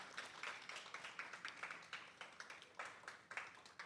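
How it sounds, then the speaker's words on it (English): An audience at an education retreat session gives faint, steady applause, quick claps running evenly from start to finish with no talking. "give yourself a round of applause and a standing ovation"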